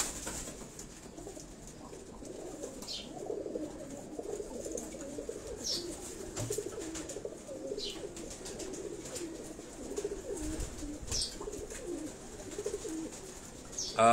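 Several male pigeons coo in soft, overlapping throaty murmurs on a rooftop loft in Karachi's Defence area, a continuous low burble heard largely on its own, with a few faint higher chirps scattered through.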